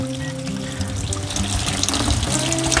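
Water runs and splashes continuously beside an outdoor toilet in a forest, close and steady, growing slightly louder toward the end.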